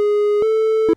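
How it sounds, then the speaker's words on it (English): Triangle wave oscillator tone from FL Studio's 3X OSC synth, a steady sustained pitch with faint upper overtones, briefly re-struck twice with small clicks before cutting off abruptly. "Triangle wave,"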